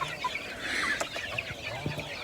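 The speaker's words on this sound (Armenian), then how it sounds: "Համով ուտում են իմ ճուտիկներս" Chickens cluck softly while pecking at freshly picked autumn greens, scattered short clucks and calls over a faint rustling outdoor background, fairly quiet and close.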